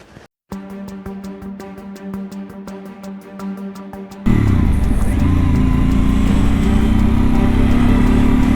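A Harley-Davidson Pan America motorcycle engine idles with a rapid, steady putter, then roars loudly as the rider pulls away and keeps riding under a constant, close engine drone.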